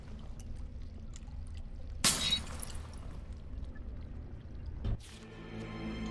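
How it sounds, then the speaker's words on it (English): Glass breaking in the fantasy role-playing game Dragon Age Origins after water is poured back into a pool, a sudden bright crash with scattering shards, followed later by a shimmering magical chime over steady ambient game music. "It almost sounded like glass breaking, but either way, the door is open now."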